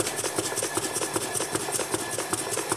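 Small running model steam engine with a rotor and little cranks on the shaft, chuffing and clattering in a fast, even mechanical rhythm, close and moderately loud with no voices.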